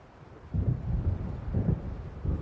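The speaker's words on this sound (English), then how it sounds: "It seems there's a storm coming." Low, distant rolling thunder from a storm building over the water in Alan Wake, three soft rumbling swells under a faint windy background.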